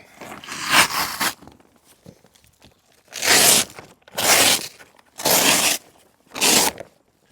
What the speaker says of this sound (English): there is a zipper here that will allow you to completely open this.